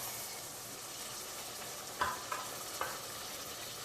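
Beef and onions frying in a pot for a beef stew, giving a soft, steady sizzle with a few light scraping taps from stirring, heard faintly up close with no voices.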